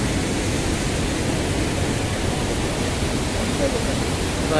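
Broad, steady roar of a full waterfall with plenty of water near a temple in Rajapur, a constant rushing wash heard up close with no break.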